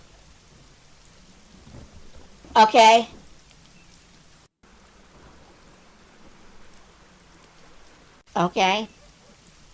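Steady heavy rain from the Secret Files: Tunguska adventure game hisses softly and continuously in the background while someone speaks briefly twice.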